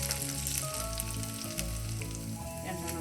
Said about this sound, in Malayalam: കടുകൊന്ന് പൊട്ടിട്ട് ശേഷം ചുവന്നുള്ളി